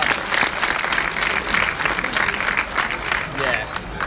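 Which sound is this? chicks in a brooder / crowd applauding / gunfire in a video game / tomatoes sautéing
crowd applauding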